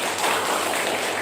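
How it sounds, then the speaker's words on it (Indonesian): Steady, dense applause from an audience at a hospital innovation competition, a continuous wash of many hands at moderate distance without individual claps standing out. "Tepuk tangan untuk kita semua."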